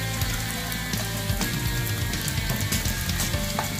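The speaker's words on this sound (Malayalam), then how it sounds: "ഇതൊന്നും പൊടിഞ്ഞു പോകാതിരിക്കാൻ വേണ്ടിയാണ് നമ്മൾ പൊരിച്ചെടുക്കുന്നത്" Paneer cubes frying in hot oil in a pan, giving a loud, dense, steady sizzle with crackling spatters throughout, heard close and alone.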